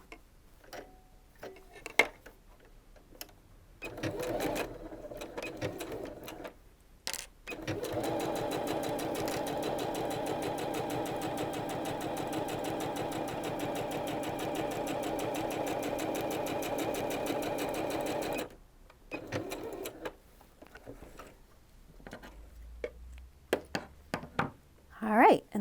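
A sewing machine stitches the seams of a fitted fabric face mask, running as one steady whirring, ticking burst of about eleven seconds, with quiet handling noises and brief talk before and after.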